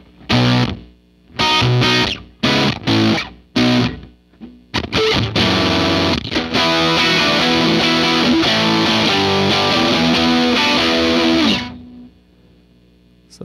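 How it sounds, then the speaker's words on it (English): Electric guitar run through a fuzz setting on a Boss GX-700 effects processor: short choppy chord stabs, then a long sustained, heavily fuzzed passage that cuts off into quiet near the end. "I guess we can try it with a fuzz."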